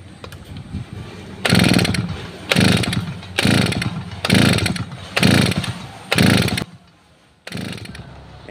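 Gasoline grass cutter engine being pull-started, coming alive in repeated loud bursts of buzzing two-stroke revving with short drops between, up close, stalling briefly before another burst.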